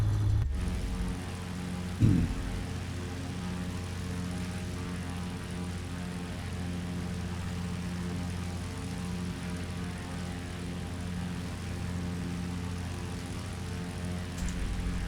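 A Morane-Saulnier MS733 trainer in Microsoft Flight Simulator 2020 drones along with a steady propeller-engine hum heard from outside the aircraft, constant and fairly loud with a brief knock near the start.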